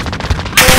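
AX50 rifle fire in Call of Duty Modern Warfare, a loud close burst of rapid gunfire lasting under a second.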